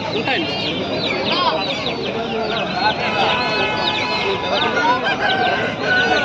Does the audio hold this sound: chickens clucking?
yes